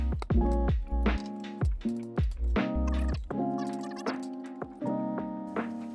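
Cooked rice tipped into a pan beside a fried egg for a Filipino breakfast, giving a series of soft, close squishing thuds and clatters in uneven bursts, with no talk.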